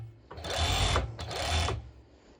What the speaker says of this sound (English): it's an industrial one, so it's a really fast serger